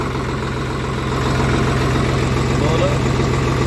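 A Swaraj 855 diesel tractor idles nearby with a steady, deep rumbling throb that rises slightly in loudness partway through, with a voice speaking over it.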